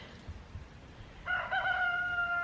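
Rooster crowing in a chicken yard, a single clear call rising out of quiet background clucking and rustle partway through and holding steady to the end.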